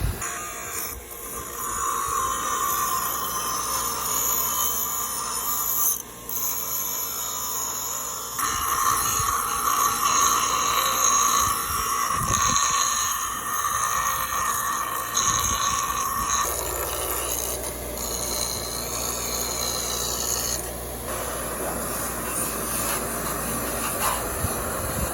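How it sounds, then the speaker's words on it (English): A loud, continuous mechanical whine of a grinder on the metal of a forged knife, grinding off the tip, runs throughout, its tone shifting several times as the pressure and angle change. "I'm going to try to grind the tip off and then sharpen it"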